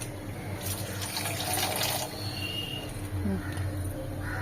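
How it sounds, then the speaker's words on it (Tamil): Water poured over peeled, cut and rinsed beetroot in a cooking pot, a steady splashing stream for a few seconds with faint kitchen clatter and no talk. "இப்ப தண்ணி ஊத்தி வேக வச்சுப்போம்"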